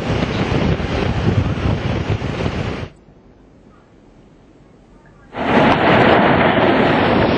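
Cyclone Hudhud's roaring winds batter the coast and a rough sea, loud and continuous. The roar drops to near quiet for a couple of seconds, then surges back at full strength.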